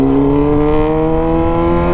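Honda Hornet motorcycle with a straight exhaust pipe revving loud and close, a sustained rough engine roar rising steadily in pitch, with no talk.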